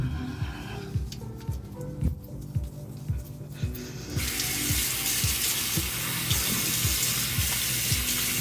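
Water from a tap runs into a sink, starting as intermittent splashes and then becoming a loud, steady gush halfway through, with a regular low thumping underneath.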